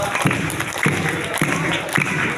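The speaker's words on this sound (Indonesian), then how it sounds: "Kita tepuk tangan bersama-sama yang kompak." A group of cheerful children at a storytelling session clap together in unison, four steady, evenly spaced claps over a lively crowd murmur.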